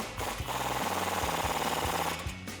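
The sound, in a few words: tightening a suspension bolt with a 21 millimeter socket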